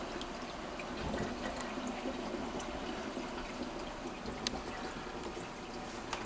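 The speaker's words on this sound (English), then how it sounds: "there's a really good amount of water turnover," Wave pumps keep water circulating in a marine reef tank, making a continuous wash of churning, trickling water with small splashy ticks scattered through, steady and moderately close, with no voices.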